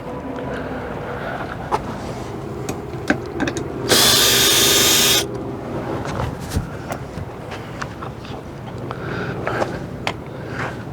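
A power drill runs in one steady burst of about a second while removing screws from the roller tube of an LCI patio awning, with faint handling clatter and knocks before and after.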